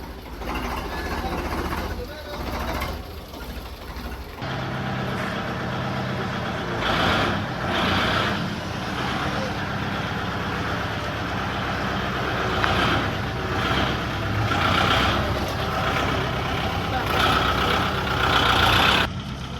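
Tractor engine running steadily at a farm, with reversing beeps and people shouting over the loud rumble throughout.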